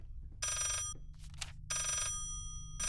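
An old-style telephone bell rings in the horror video game Layers of Fear, two loud, close rings separated by a short pause with a faint noise between them.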